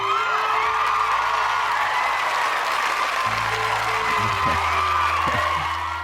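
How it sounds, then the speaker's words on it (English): A crowd bursts into sustained applause, loud and dense clapping mixed with scattered cheers and whoops that carry on without pause. "applause."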